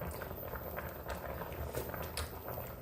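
Shrimp boiling in a pot give off a steady, close bubbling and simmering noise throughout, with no break or change.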